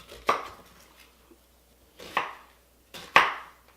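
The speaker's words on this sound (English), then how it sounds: "I'm just going to come back and thinly slice this onion" A knife thinly slices an onion on a cutting board, giving three sharp, crisp cuts spaced about a second apart, close and clear against near silence.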